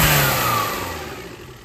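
A turbo-swapped Daihatsu Mira engine, running hot, gives a short rev that peaks at once and then winds down over under two seconds, loud and close.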